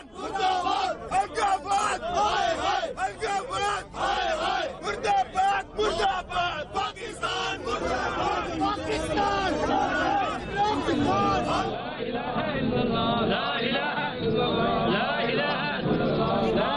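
A large crowd at a funeral procession in Jammu and Kashmir, a dense roar of many voices shouting and chanting continuously, loud and close throughout.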